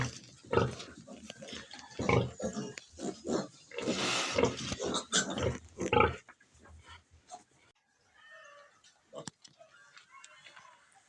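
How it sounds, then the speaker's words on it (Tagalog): Pigs on a farm grunt and oink near a sow that farrowed the night before, loud irregular bursts for the first six seconds, then sparse quieter snorts and rustling. "Nandito po tayo sa aking mga alagang baboy na nanganak lang po kagabi."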